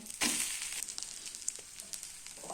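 An amboli rice pancake roasts in a pan, giving a soft, steady sizzle with faint crackles and one sharper scrape near the start, close and quiet with no talk.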